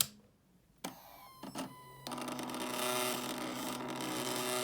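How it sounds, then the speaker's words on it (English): A stepper motor drives a carriage along a lead screw with a steady electric whirring hum that starts after a couple of clicks, close and continuous to the end. "pressing one button, the carriage successfully drives back on the lead screw"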